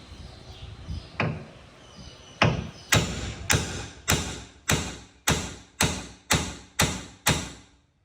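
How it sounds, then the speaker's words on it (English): About ten sharp metallic taps on hard metal on a Toyota Tacoma before drilling a pilot hole, a few spaced loosely at first and then striking in a steady, even rhythm, close and fairly loud with no talking. "I'm going to go ahead and tap this a couple times"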